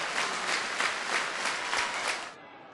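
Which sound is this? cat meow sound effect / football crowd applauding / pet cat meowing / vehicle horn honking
football crowd applauding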